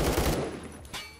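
Rapid AK12 automatic fire in the Roblox shooter Phantom Forces, a dense loud burst of shots at the start that thins out, with another short burst near the end; no talking.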